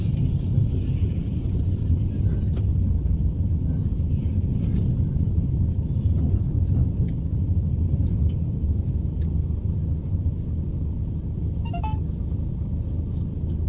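A vehicle rolls slowly through a low 3.5 metre tunnel, producing a loud continuous deep rumble with a faint hum and occasional light rattles above it.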